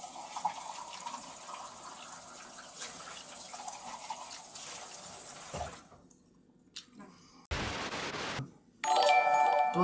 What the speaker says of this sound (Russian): Я сейчас по рюмке нам наливаю.